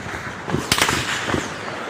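Gunshots during a violent clash in Mizoram: a few sharp cracks in quick succession, fairly near and loud, set against a noisy outdoor background.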